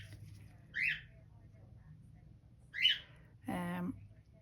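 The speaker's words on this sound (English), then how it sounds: "If you can hear any little chirps in the background, that is Binky." A pet bird chirps in the background of a quiet indoor space, giving two short high chirps about two seconds apart, then a brief buzzy warble, faint and distant, with no talk.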